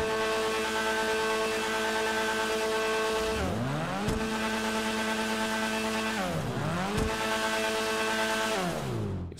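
A video-game car engine in GTA Online revs hard and repeatedly climbs to the rev limiter, with three rising sweeps that hold at a steady buzzing limit before dropping, loud and close, with no voices.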